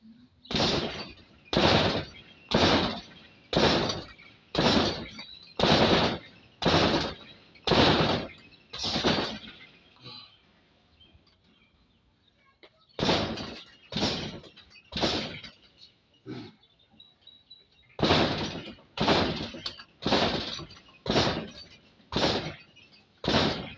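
Knee strikes land on a heavy bag during shin and knee conditioning, as a steady series of loud, evenly spaced thuds, then a short pause, then another run of hits.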